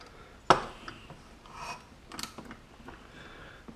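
Ratchet cranking a part onto an Efneo bicycle conversion: one sharp metallic clack, then a series of lighter ratcheting clicks and mechanical rattles close by, with no voices.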